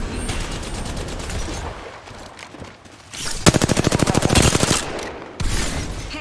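Video game gunfire: a rapid burst of automatic shots, loud and close, rattling through the middle, with an earlier stutter of fire and a final short burst near the end over busy battle noise.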